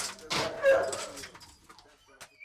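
Rescue dogs at a shelter give short whimpers and a few yips in a brief burst that trails off into quieter sounds, moderately close with a busy background.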